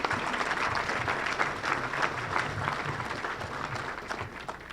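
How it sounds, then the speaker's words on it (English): A graduation audience for a basic law enforcement training class claps in sustained, even applause, a dense wash of many hands that holds steady throughout. "Please join me in giving these individuals a well-deserved round of applause."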